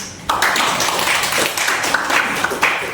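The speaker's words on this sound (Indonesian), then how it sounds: "tepuk tangan buat itu" Applause breaks out suddenly after a brief quiet moment, a group clapping loudly and steadily nearby for the rest of the moment, with a few sharper claps standing out.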